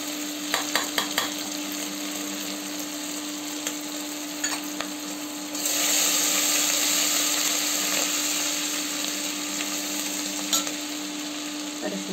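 Spices and ginger frying in a pan with turmeric going in while making khara pongal, a steady close sizzle with a few light clinks of a spoon, growing louder midway as fresh ingredients hit the hot oil.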